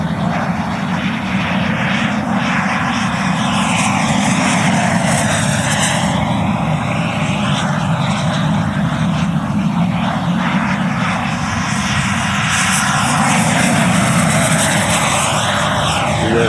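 A Black Horse Viper JETFAN-110 electric ducted-fan RC jet with a 3 kW motor flies at full speed outdoors, its continuous loud whine and roar swelling and fading as it makes repeated passes.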